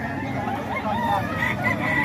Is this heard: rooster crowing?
yes